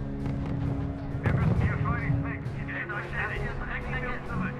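Artillery and gunfire rumble through a R.U.S.E. wartime strategy battle, dense booms and bursts layered with radio chatter and a voice talking over the fighting.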